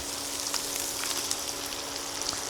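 Egg and sausage sizzle in a skillet as a dense, even crackle with fine pops. It is close, steady and loud throughout, and no one talks.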